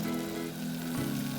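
Masala with turmeric, chili powder and salt sautéing in a pan for chicken kulambu, giving a steady close sizzle with a low hum beneath and a slight shift near the end, no talking.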